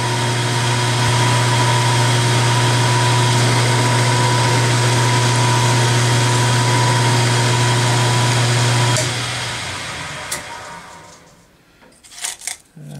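A machine hums steadily and loudly with a whining tone for several seconds while spot drilling metal, then winds down, followed by a few light clicks and clatters.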